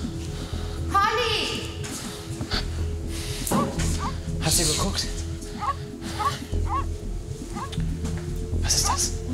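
A dog barks and yips intermittently, sharp short calls scattered among frequent talking voices.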